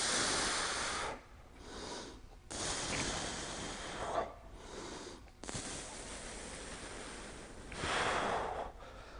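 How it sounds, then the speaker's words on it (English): Heavy, rhythmic breaths are drawn in and pushed out in time with stretching movements, each exhale a loud close whoosh separated by brief quieter pauses. "I tend to breathe with all my motions because I forget to breathe"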